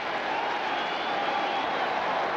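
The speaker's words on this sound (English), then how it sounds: "Now the Steelers are applauding" Applause and crowd noise at a 1991 Thanksgiving NFL game between the Pittsburgh Steelers and Dallas Cowboys: a steady, dense, far-off roar of clapping that holds evenly throughout.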